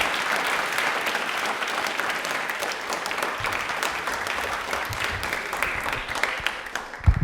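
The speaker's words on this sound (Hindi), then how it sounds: "तालियां एक बार जोरदार सीमा विजय मैम के लिए बजा दीजिए प्लीज" Audience at a televised Indian Railway quiz programme applauding loudly, a dense, continuous roar of clapping that holds steady and swells slightly near the end.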